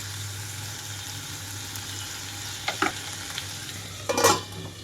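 Tomatoes cook under a lid in a pan for a toor dal chutney, giving a soft, steady simmering hiss with a low hum underneath and a few brief clinks and scrapes toward the end.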